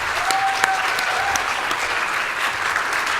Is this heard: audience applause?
yes